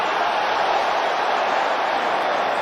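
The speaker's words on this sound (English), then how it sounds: "This crowd has come alive." A boxing arena crowd cheers and roars during the Canelo vs. Billy Joe Saunders fight, a dense, steady wall of massed voices with no single voice standing out.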